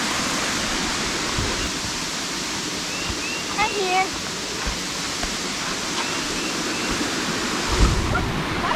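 A waterfall roars loud and constant close by, a dense unbroken rush of falling water, with a short spoken remark partly lost under it.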